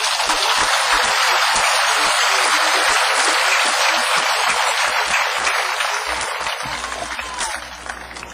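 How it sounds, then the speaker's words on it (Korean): A large audience at a speech claps loudly and continuously, a dense, even roar of applause that fills the whole stretch and fades slightly toward the end. "정신나게 하면 박수를 크게 해보지."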